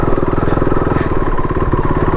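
A KTM RC-390 motorcycle rides through thick mud on a rough off-road track, its single-cylinder engine thumping in a steady rapid pulse, loud and close throughout.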